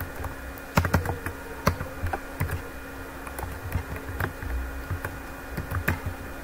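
Keys on a computer keyboard clack while text is typed into an MS Word document. The clicks are quiet and irregular, come close to the listener, and sit over a faint steady hum with no speech.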